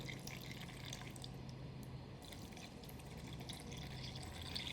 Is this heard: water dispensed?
yes